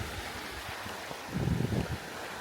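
Gentle surf rolls onto Ao Prao Beach on Koh Kood, Thailand, a steady soft wash with one fuller wave swelling in the middle, mixed with light wind noise.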